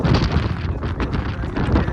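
Strong wind buffets the microphone on the Girnar mountain stairway, a loud steady roaring rush with gusty swells that continue throughout without a break.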